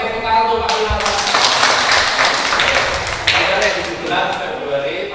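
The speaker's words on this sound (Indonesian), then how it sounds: "tepuk tangan untuk Pak Winoto" An audience at a New Year talk show applauds for a contestant, a dense burst of clapping that swells over the first seconds and tapers off, with talk mixed in.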